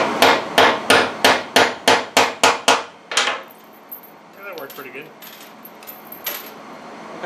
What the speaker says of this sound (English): So I'm going to try to tap this, get it to wedge in there.